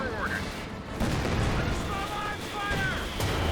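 HEAT rounds are fired at a Panther tank in Company of Heroes 2, with repeated heavy cannon thumps and battle rumble running under continuous spoken commentary.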